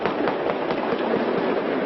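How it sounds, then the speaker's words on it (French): Muffled bangs pop irregularly over a steady rumbling din, heard from some distance and fairly faint, during a police assault on a kosher supermarket at Porte de Vincennes, Paris. "Des explosions."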